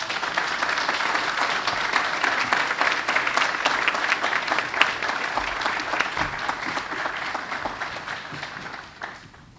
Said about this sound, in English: round of applause for Megan and Victoria.